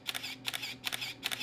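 Older DSLR shutter firing at its top burst rate, four quick mechanical clacks in about a second and a half, close and crisp with nothing else heard.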